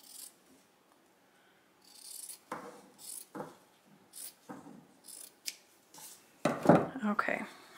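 Scissors trimming fabric around an embroidery hoop, a series of short crisp snips spaced about a second apart, close and quiet, with a louder rustling handling of the cloth near the end.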